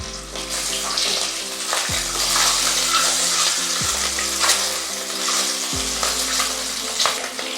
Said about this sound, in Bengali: তেল গরম হয়ে গেছে, এবারে ডিমগুলো আমি ভেজে নেব।